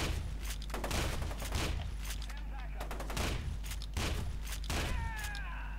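A pump shotgun in F.E.A.R. 2 booms through repeated blasts with mechanical pump actions between them, mixed into a busy game firefight with other weapons firing and effects sounding; a voice talks intermittently.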